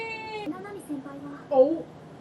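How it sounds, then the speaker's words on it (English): A cat in an anime meows once, a clear close cry at the start, followed by people talking. "Ah, there's a cat."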